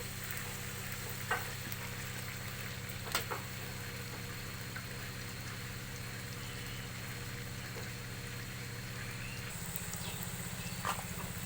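Mustard paste with ground green and dried chili sizzling in a pan for a parshe fish curry, a steady broadband frying hiss with a few faint clinks, no talk.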